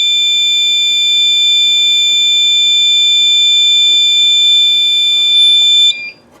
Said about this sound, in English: you can hit your alarm silence again, and now there are two alarms in the system